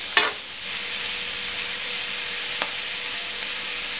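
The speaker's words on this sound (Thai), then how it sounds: "ผัดให้เข้ากันครับผัดให้พริกเข้ากับตัวกุ้งเลยครับพริกกับกระเทียม" Shrimp stir-fried with chili and garlic over high heat in a wok gives a loud, even sizzle that holds throughout, broken only by a couple of brief utensil clinks.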